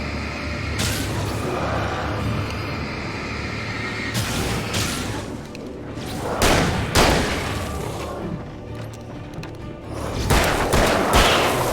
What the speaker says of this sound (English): That's a lot of flashbangs to go give a man.